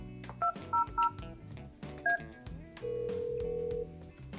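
An incoming call on the 3CX mobile softphone app sounds as several short, bright electronic tone pairs in quick bursts, then a single longer steady tone, all over a quiet background without talk.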